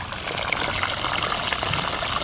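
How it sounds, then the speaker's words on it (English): Water gushes steadily out of a sump pump's outdoor discharge pipe in a continuous, close pouring rush with no talking. "I can see there's lots and lots of water coming out"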